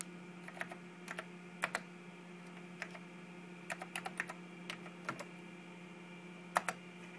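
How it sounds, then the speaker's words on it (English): Keys clatter on a NeXTcube computer keyboard as a password is entered: short bursts and single taps of crisp, close clicks, spaced irregularly over a steady low electronic hum. "I'll type in my root password, which at this pace is just root"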